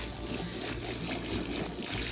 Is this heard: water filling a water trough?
yes